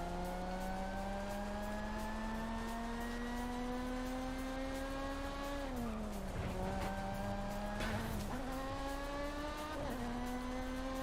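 A race car in Forza Horizon 5 holds a steady high engine tone that climbs slowly, then dips and surges through gear changes with tire squeal and skidding, loud and continuous.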